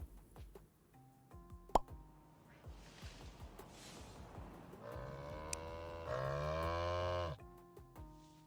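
Cows in the top-down video game Necesse moo in drawn-out, tonal calls, set among scattered plopping and clicking game effects, moderately close and without talk.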